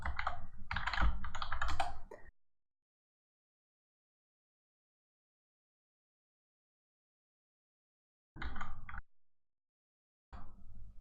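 Keyboard typing during a Weblogic 12C install as a password is entered, a dense burst of keystrokes, then long silence, then two shorter bursts.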